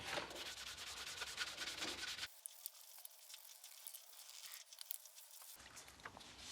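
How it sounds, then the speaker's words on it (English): Hand polishing of a stripped metal bike part with Meguiar's automotive polishing compound, a close, steady rubbing and scrubbing friction that pauses briefly before the rubbing resumes. "what I'm going to try and do is just give it a little bit of a polish using this Meguiar's automotive polishing"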